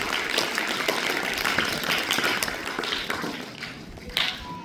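An audience in a college hall claps to welcome a teacher at an Annabhau Sathe birth anniversary event, producing a steady, dense wash of applause that thins out toward the end.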